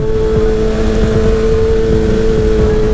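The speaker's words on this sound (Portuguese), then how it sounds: "A minha CB1000 tá sem escape." Honda CB1000 motorcycle with no exhaust fitted, its engine running steadily with a loud, raw, droning idle close by.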